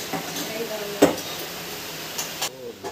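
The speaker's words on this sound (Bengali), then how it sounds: "আলু ভাজা হচ্ছে" Potatoes frying in a pan for a chicken curry, with a low, soft sizzle and a few sharp scrapes as a spatula stirs them. There are faint background sounds and no speech.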